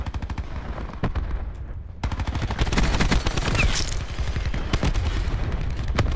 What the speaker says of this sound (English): the grav is the best gun in the game